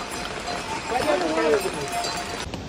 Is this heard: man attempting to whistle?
no